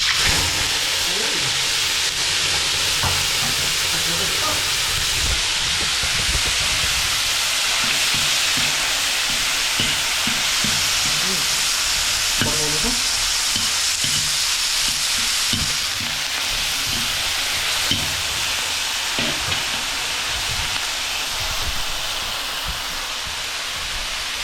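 Chili peppers and other ingredients sizzle and fry in a hot pan with a loud, steady hiss throughout, broken by scraping and clattering stirring close up, with no talking.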